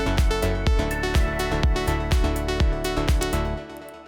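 An electronic drum track in a 16th-note rhythm, unprocessed before clipping and compression, with repeated kick hits and a sustained tonal layer beneath, fairly loud and continuous throughout.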